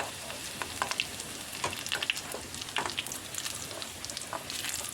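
Garlic and curry leaves frying in hot oil with mustard seeds for a mango mustard dish, giving a steady close sizzle with small crackling pops and stirring throughout, no talking.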